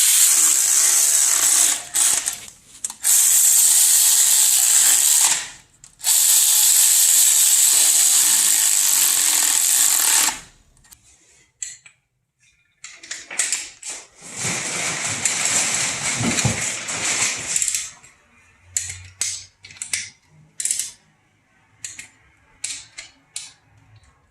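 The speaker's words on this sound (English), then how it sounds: "I'm going to go back over with the torque wrench." A ratchet and torque wrench work on the camshaft bolts of an LS3 V8 engine: loud, harsh mechanical bursts at close range, then a quieter series of sharp, irregular clicks.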